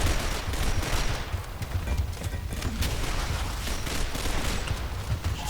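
Dense gunfire from a competitive shooter esports match, Vivify Esports against Prizm Esports, with overlapping rapid shots and bursts loud and continuous throughout, no voices over it.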